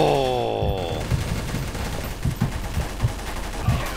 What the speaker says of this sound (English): I'm using a crappy machine gun this time around.